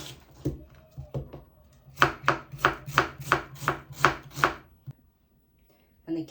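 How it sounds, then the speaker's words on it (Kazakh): Onions being chopped with a knife on a board for a meat pie filling: a quick run of about ten crisp, evenly spaced cuts, close and clear, with a couple of stray knocks before and a brief pause after. "Енді жуамызды турап алайық."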